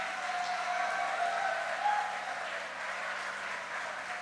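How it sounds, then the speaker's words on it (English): Audience clapping at a university career fair felicitation, a soft, even patter of applause from a modest crowd that holds steady throughout, with a faint steady hum underneath. "Can we have a round of applause for Dr."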